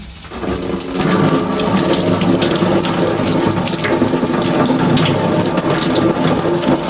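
Running water splashes steadily and loudly as home-grown onion flowers and greens are rinsed, a continuous rushing wash with no talking.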